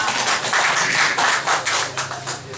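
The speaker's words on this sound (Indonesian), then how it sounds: "Tepuk tangan untuk Pak Ketua kita" An audience at a community gathering and peusijuk ceremony of the RAPI Jaya Baru radio association claps for their chairman, a short burst of fairly loud, dense applause from many hands that fades slightly near the end.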